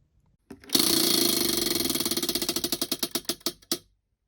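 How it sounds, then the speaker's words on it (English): A prize wheel spun by hand clicks rapidly past its pegs, a fast ratcheting burst that gradually slows into widely spaced ticks before stopping, close and alone. "Let me spin the wheel for tomorrow."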